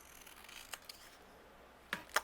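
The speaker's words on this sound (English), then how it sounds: "And then I'm just using my scissors." Scissors snip through cardstock at a quiet paper-crafting table, giving a few faint, crisp cuts with one isolated snip early and two quick ones near the end.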